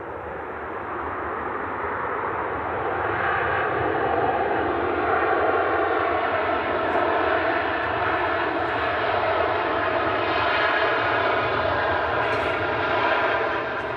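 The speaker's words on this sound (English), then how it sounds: "Another Ryanair coming in." A Ryanair jet airliner with split scimitar winglets roars steadily overhead on its landing approach, a loud, continuous broadband engine rumble that swells slightly and holds for the whole stretch.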